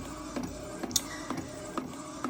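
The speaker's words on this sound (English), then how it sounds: "you would have to have a printer with sublimation ink, not regular ink, and sublimation paper" An inkjet-style printer loaded with sublimation ink running a print job, producing a steady mechanical whir with regular clicks and carriage thumps about every half second, moderately close and with no voices.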